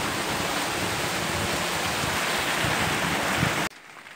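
Steady, loud rain pours down outdoors around potted desert rose plants, a dense continuous hiss that stops abruptly just before the end, with no voices.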